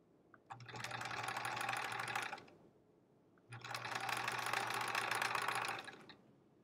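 A sewing machine stitches strip-pieced fabric for a sampler quilt in two long, steady runs of about two seconds each, with a short pause between them. The whirring motor is close and even, and nobody speaks.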